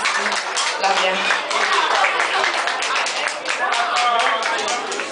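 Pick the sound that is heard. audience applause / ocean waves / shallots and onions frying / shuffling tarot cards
audience applause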